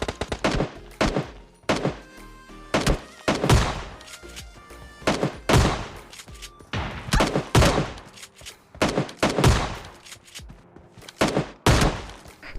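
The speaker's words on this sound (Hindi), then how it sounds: "तो बस अब यहाँ पे देखो शॉटगन की क्या सीन" An S12K shotgun fires in a video game, giving sharp, loud, booming blasts in irregular bursts, often two or three close together, with short pauses between them and no talking.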